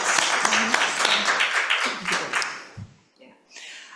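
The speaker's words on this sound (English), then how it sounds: "So Anne and Abby, a round of applause." Audience applause after a talk on global girls' education, a dense burst of many hands clapping that fades out after a few seconds, followed by quiet and a little faint talk.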